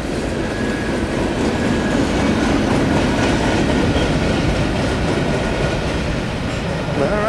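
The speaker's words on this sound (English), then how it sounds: "there goes the rear of an NS-126" The rear of a long Norfolk Southern manifest freight train rolls past near Shawsville, with an AC44 helper near the end. A steady, loud rumble and clatter of railcar wheels on track fills the whole stretch.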